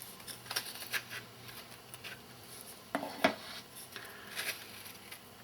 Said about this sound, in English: I'm just gonna scoop some of it out and put it into the other container